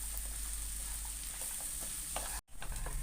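Chilli idli being stirred and mixed with fried bread in a hot pan, a steady close sizzle with light scraping of the spatula and one brief dropout near the end.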